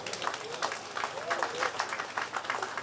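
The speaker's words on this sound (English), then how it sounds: "Let us give him a round of applause." Scattered applause rises from delegates at a trade union conference's formal opening, a steady patter of hands under a voice talking over it.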